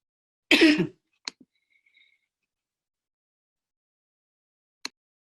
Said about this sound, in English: just had a little bit of a cough there